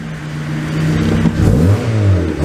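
A turbocharged Honda with an external wastegate accelerates nearby, its engine note climbing loud and steady through a rising rev before shifting pitch and pulling again.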